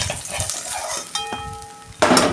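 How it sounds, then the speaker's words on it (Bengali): Fish frying in hot oil in a pan, heard as a soft sizzle with metallic clinks of a utensil and a ringing tap mid-clip, then a louder burst of crackling near the end. "তেল গরম হয়ে গেছে, মাছটা ভেজে নিচ্ছি।"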